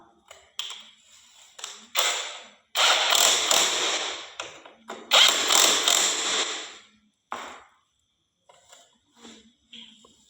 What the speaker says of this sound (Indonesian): Sini kita memasang baut kaliper dengan menggunakan kunci LDK.